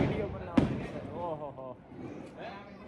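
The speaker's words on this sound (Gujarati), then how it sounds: "તો આજ દિવાળી છે ને ફટાકડા ફોડ્યું ને ભાઈ?" One sharp, close Diwali firecracker bang cuts through as people talk nearby.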